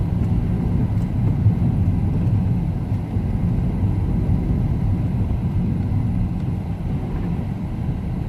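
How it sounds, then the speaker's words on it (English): Steady interior road noise from a Mazda 3 being driven, with its engine, ABS and ESP warning lights on: a continuous low rumble of engine and tyres, even and unbroken throughout with no talking. "And the car is driving pretty good, actually."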